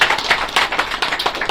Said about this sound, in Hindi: तो मैं चाहूंगा फंड के लिए तालियां भी जोड़ना